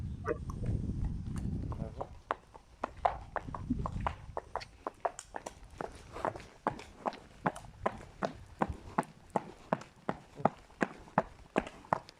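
Horse hooves clip-clop at a steady walking pace in a forest, a long even run of sharp hoof strikes on firm ground with soft rustling and breathing underneath.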